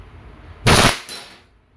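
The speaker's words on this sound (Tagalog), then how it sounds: "Testing Glock 17 Gen 5 with full automatic." A WE Airsoft Glock 17 Gen 5 gas pistol fires in full-auto mode, a short sharp rattling burst followed by a second quicker crack, close and loud against a quiet room.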